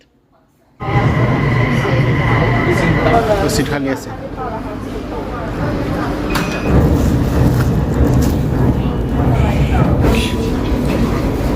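A Guangzhou Metro train rumbles steadily in an underground tunnel, with a loud roar and rattling, while people talk over the noise.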